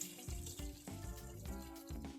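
Water runs and splashes over soy chunks in a bowl as they are rinsed in cool water, with soft clattering bursts in an uneven rhythm, close and fairly quiet.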